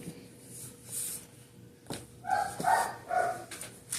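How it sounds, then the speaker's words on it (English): A few dog barks sound from another room, muffled and moderately loud, breaking an otherwise quiet background. "Sorry if you hear my dog barking."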